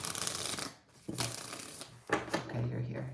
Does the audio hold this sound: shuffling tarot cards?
yes